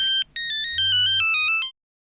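An electronic phone ringtone plays a bright repeating melody of short beeping notes for an incoming call, loud and close, then cuts off into silence.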